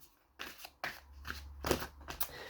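A Thoth tarot deck, Gold Edition, is shuffled in several quick riffling bursts with short pauses between them, crisp and close-up.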